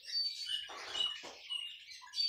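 Male canary in a cage, giving faint, thin high chirps and short twittering notes with soft rustling between them, quiet and close.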